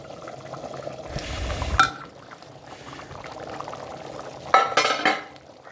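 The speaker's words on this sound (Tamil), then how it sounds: "நல்லா கொதிக்குது." Chicken dum biryani, half a kilo, bubbles inside a pressure cooker in a steady, close simmer, with two louder hissing, gurgling surges rising above the boil. No one speaks.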